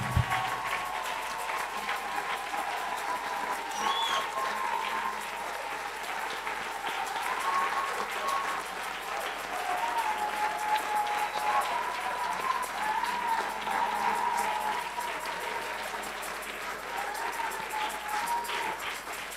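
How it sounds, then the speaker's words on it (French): A church congregation at a school-of-ministry graduation ceremony claps steadily for about twenty seconds, a dense continuous wash of hands with faint singing or voices mixed beneath it. "Let us clap to the Lord."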